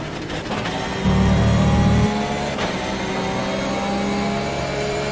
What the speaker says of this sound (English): As we hear the lovely engine sound of the Porsche 997.